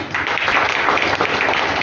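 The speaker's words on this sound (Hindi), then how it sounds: "इसके लिए मैं एक ताली चाहती हूँ" Audience applause, a dense steady burst of many hands clapping, fairly loud and close, sustained for a couple of seconds without talk.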